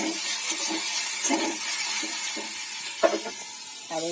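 Okra frying in a pan, a soft continuous sizzle with light crackling and occasional stirring clatter.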